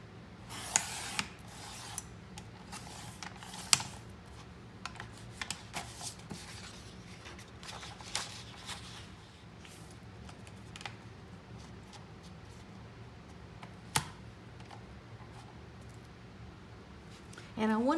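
Scissors snip through decorative planner paper in a handful of faint, scattered cuts over a low steady room hum.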